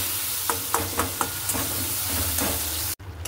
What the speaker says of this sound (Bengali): এখানে দিয়ে দিলাম পেঁয়াজ ভাজা করতে।